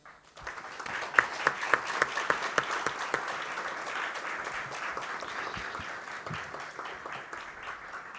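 An audience at a philosophy café event in São Paulo applauds to welcome a professor, a steady wash of many hands at moderate distance, with a few sharper nearby claps standing out early on.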